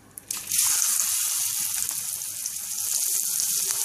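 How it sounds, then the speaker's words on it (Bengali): Green chilies drop into hot oil on a low flame for a chili pickle, setting off a sudden close sizzle after a brief quiet start that then hisses steadily and loudly with no talking. "এবার আমি চুলা হিটটাকে লোতে রেখে দিয়ে দিচ্ছি মরিচ, সেই মেখে নিয়ে মরিচগুলো দিয়ে দিচ্ছি"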